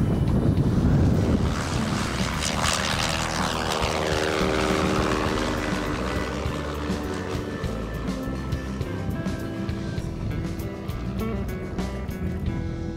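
A fixed-wing propeller airplane flies in to a hunting camp on the windy Alaska Peninsula, its steady engine drone loud and close at first, then holding as a sustained hum against the wind.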